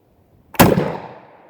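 A single shotgun blast fired at an outdoor target range, a sharp loud crack that rings out and decays over about a second after near silence.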